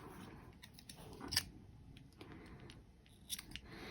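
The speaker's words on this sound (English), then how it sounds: "So then you just cut your yarn right here" Scissors snip through white acrylic yarn during crochet work, giving one sharp close cut and a fainter second snip about two seconds later, quiet and alone.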